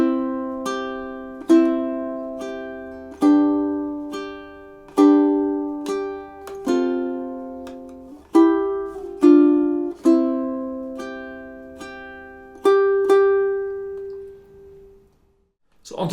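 A ukulele plays two measures of a song, a series of clear strummed chords and single notes at a steady pace, each ringing and decaying before the next, close and alone, ending in a brief silence.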